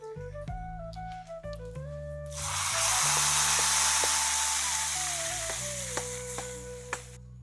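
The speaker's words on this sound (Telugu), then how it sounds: "ఇప్పుడు ఈ పోపు అంతటిని కూడా మనం కదంబంలో వేసేసుకోవాలి" Hot tempering of mustard seeds, chillies and asafoetida poured into a mixed-vegetable rice dish sizzles loudly, swelling suddenly then fading over a few seconds, with instrumental music playing throughout.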